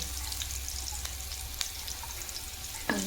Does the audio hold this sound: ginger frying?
yes